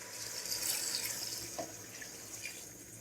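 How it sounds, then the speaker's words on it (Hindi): Water pours steadily into a cooking pot of chicken nihari with whole spices, coriander and onion, a continuous close splashing rush with no talking. "अब हम इसमें पानी ऐड करेंगे।"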